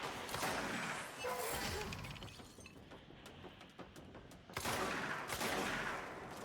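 Heavy shotgun blasts and chaotic combat noise in the video game Control come in loud clustered bursts, easing briefly in the middle before surging again.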